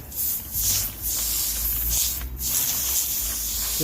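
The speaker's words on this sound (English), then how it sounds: "Now I'm just going to take the hose here. I put the light spray attachment on." A garden hose with a light spray attachment waters seedbeds, a steady, hissing spray throughout, broadband and fairly loud, with brief dips in intensity as the stream shifts.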